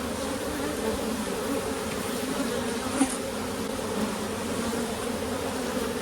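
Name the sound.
honey bees buzzing in an opened hive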